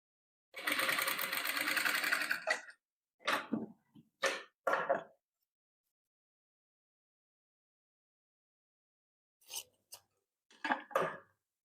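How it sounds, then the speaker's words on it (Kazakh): A sewing machine stitches patchwork fabric in a long close run of rapid whirring, then several short bursts separated by pauses. "Міне, енді былай сары түсіміз тігеміз."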